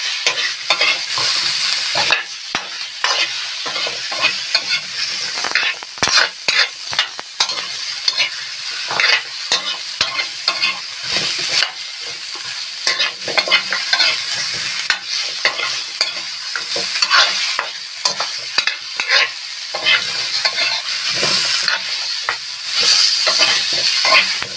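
Papaya sautéing in a hot pan gives a loud, steady sizzle and hiss for the whole stretch, broken by frequent scraping stirs and clatters of a utensil against the pan.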